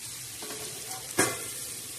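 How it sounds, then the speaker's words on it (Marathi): Spiny green country okra frying on a tawa griddle with green chillies, onion and tomato, giving a steady close hiss of sizzling with one sharp clatter partway through. "झटपट अशी तवावरची तवा फ्राय भेंडी आपली तयार होत आहे"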